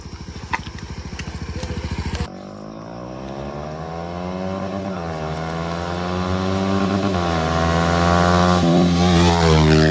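A motorcycle idles with a rapid pulsing beat, then the engine revs up in a long rising, wavering drone that grows steadily louder, close by and with no talk over it.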